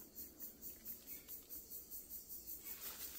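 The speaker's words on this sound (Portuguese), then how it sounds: "isso é uma cigarra" A cicada buzzes faintly in the distance in dense Amazon forest, a steady pulsing drone repeating several times a second, with no one speaking.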